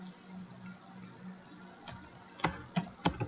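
A few quick keystrokes tap on a computer keyboard as a search is typed, faint and close, starting sparse and then coming in a short irregular burst.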